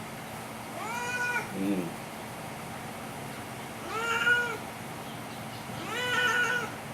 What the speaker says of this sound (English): Look, it's neighbor kitty.